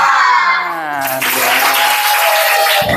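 A school class of children does the tepuk semangat clapping chant, producing loud, dense rhythmic clapping and young voices that swell into a burst of applause.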